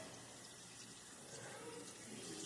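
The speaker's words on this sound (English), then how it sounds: "just the water is doing its job from my wrist down" Tap water runs steadily into a sink while hands are washed, a continuous soft hiss at low volume with no voices over it.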